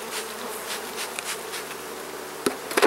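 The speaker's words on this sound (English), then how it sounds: "these bees are just starting to get nasty here" Honeybees buzz steadily at an opened hive that is growing defensive, a close, dense hum with a few knocks and clatters near the end.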